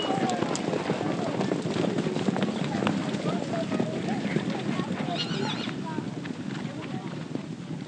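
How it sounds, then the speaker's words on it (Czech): A herd of horses at the Albertovec stud farm in Štěpánkovice is driven out to pasture, hooves drumming steadily throughout with occasional whinnies and neighs, close and busy, with wind and people talking in the background. "Když běží stádo koní pohromadě, tak je to strašně krásný pohled."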